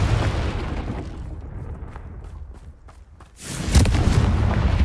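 A Confringo blasting spell from Hogwarts Legacy goes off, a boomy burst at the start that trails off, then a second loud blast about three seconds in, with no talk.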